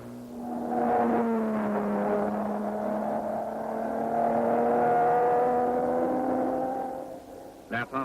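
An Aston Martin DB3S race car at the Goodwood 9-hour race drones past with a sustained, tonal engine note that rises and falls in pitch, fairly close, before fading out.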